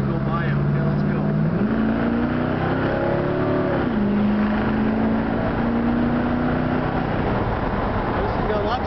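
Orange 1970 Chevrolet Chevelle pro-touring with four-wheel disc brakes on a test drive, its engine droning steadily and rising in pitch as it accelerates and shifts, heard from inside the car with road noise.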